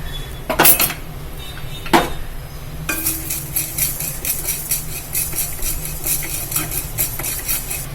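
A spoon scrapes and clinks against a pan while urad dal and spices are stirred into a tempering, giving a few sharp metallic knocks early on and then steady, soft rhythmic scraping and faint sizzling throughout.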